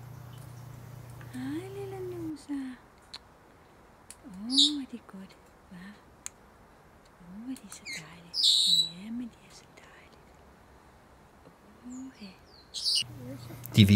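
A flock of Senegal parrots gives scattered calls, with short whistled and squawking notes and a few sharp high chirps at uneven intervals. The birds sound fairly close, with quiet gaps in between.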